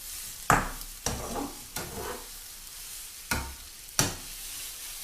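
Eggs sizzle in a hot frying pan as a utensil scrapes and stirs in several sharp strokes, close up, with a steady frying hiss underneath.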